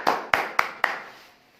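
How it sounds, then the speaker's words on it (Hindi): Four sharp hand claps in quick, even succession, fairly close and moderately loud, each fading briefly before the next, with a short tail of silence afterward. "तालियों के साथ।"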